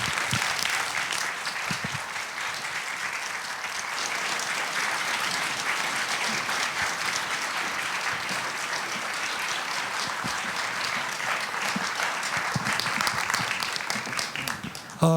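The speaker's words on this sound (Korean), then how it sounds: "큰 박수로 맞아주십시오." A theatre audience welcomes director Tsai Ming-liang with long, sustained applause, a dense and steady wash of many hands clapping that holds at a constant level throughout.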